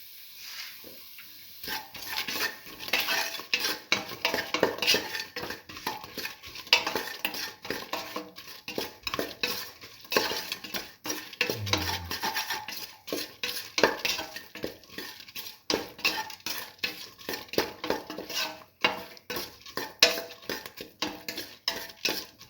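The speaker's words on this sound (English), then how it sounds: "Mix thoroughly and salt." A spoon scrapes and taps steadily against a pan while a red lentil and bottle gourd mixture is stirred, continuous close clinking and scraping with a faint sizzle underneath and no talk.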